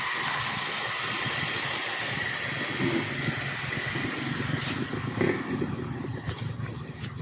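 A car engine idles steadily and fairly loud, a constant low rumble running throughout with a few faint clicks near the end and no talking.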